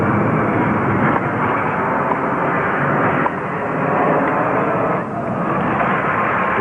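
Low, steady jet-aircraft roar over a tennis stadium at the 1972 US Open final, loud and continuous throughout, with faint shifts as the planes pass close overhead.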